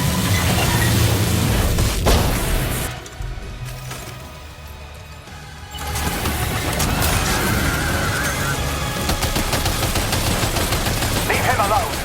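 Rapid gunfire and booms fill a battle in Death Stranding 2, a dense, loud barrage that drops to a quieter lull midway before the heavy fire resumes; a voice speaks briefly under it.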